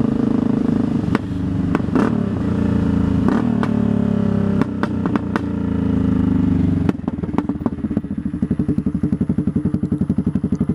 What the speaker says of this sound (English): there's a bit more noise coming from the back than usual